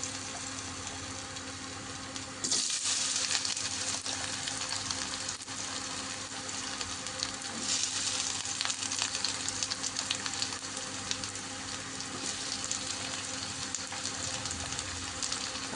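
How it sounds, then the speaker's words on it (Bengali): Potatoes drop into hot oil already seasoned with black cumin seeds, and a loud, dense sizzle rises abruptly and carries on steadily under a constant low kitchen hum, with no talking. "তেল গরম হয়ে গেছে, এবার কালো জিরেটা ফোড়ন দিয়ে দিলাম। এবার আলুগুলো দিয়ে দিচ্ছি।"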